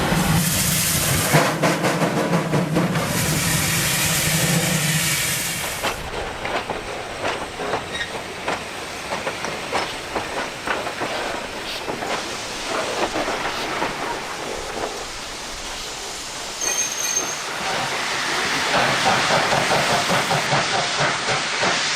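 A mainline steam locomotive at the Edge Hill steam depot gives a loud, close blast of escaping steam, then a long rumbling hiss with rhythmic clanks and rail clatter as the engine moves.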